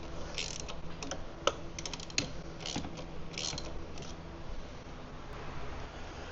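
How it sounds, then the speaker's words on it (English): A hand ratchet tightening engine mount bolts on a 2014-onward Mini Cooper F56, rapid clicking pawl bursts repeating close by in a quiet garage with a few metallic knocks. "I'm doing it with the Ratchet because I don't want to mess anything up with the impact"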